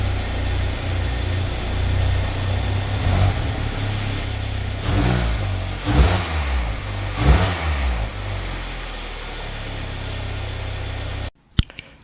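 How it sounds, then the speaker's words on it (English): A 2014 Kia Optima EX engine and exhaust, recorded close, running steadily with several distinct revs rising and falling, then cutting off abruptly near the end with a couple of sharp clicks. "let's take a quick listen to the car"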